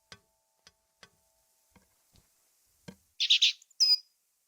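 A pet bird chirps in The Book of Unwritten Tales 2 game scene, two bright, high tweets following a series of faint, sparse ticks and taps, close and clear with no talking.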